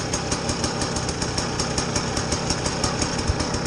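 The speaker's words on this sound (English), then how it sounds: "Nobody told John, but I'm gonna ride his bike." A desert camo motorcycle idles close by, its engine a steady, even rumble with rhythmic ticking pulses throughout and no talking.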